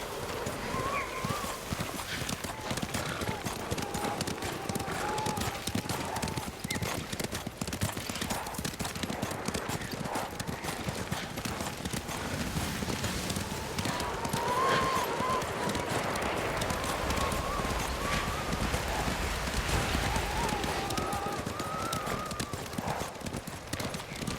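Horse hooves clip-clop steadily in a continuous rhythm while riding in Ghost of Tsushima, with occasional whinnies and game voices talking over the hoofbeats.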